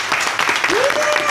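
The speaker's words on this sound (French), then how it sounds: "après on le découvrira sous un tonnerre d'applaudissements" Applause welcomes a contestant named Tristan onto the French TV game show Charabia, a dense, steady wash of clapping that fills the whole moment with a brief rising tone over it.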